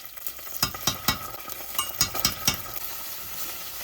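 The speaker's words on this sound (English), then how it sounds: "I'm going to saute that for about a minute." Red onion and ginger garlic paste sauteing in canola oil in a pan, a steady sizzle broken by repeated scraping stirs in an uneven rhythm, close and moderately loud with no voices.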